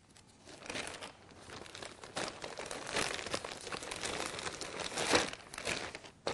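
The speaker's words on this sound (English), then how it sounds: "And then we just wrap it up. It's a nice little package. And we put it in a 2-gallon Ziploc bag." A 2-gallon Ziploc bag crinkles and rustles up close as a midwife kit is packed into it, in irregular plastic crackles with no talking.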